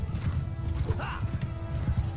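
Horse hooves pound in a quick galloping clatter during a Mount & Blade II: Bannerlord battle with horse archers, close and steady under a busy, rumbling battlefield din.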